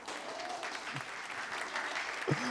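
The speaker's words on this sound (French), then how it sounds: "Ah, dis donc, la foule en délire." A comedy club audience claps steadily in a dense, even wash of applause, with a brief cheer rising near the end.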